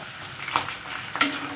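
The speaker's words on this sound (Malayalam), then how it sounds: "കുറച്ച് നേരം കൂടെ ഇതേപോലെ ഇളക്കാം." Mango pickle mixture stirred in a frying pan under a steady bed of oily sizzle, with two soft scraping strokes of the spoon, no talking.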